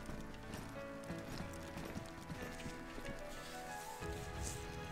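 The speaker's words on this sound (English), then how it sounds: "I'm hearing a lot of footsteps right here." Rapid, overlapping footsteps in the DayZ video game, a dense run of quiet close thuds and scuffs lasting several seconds, as if several players are moving nearby.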